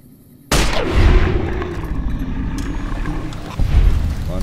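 A single sharp gunshot in the video game Fallout: New Vegas bursts out loud and close, then trails into a long rumbling echo that fades slowly beneath steady background noise.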